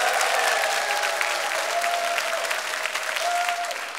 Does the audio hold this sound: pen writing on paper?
no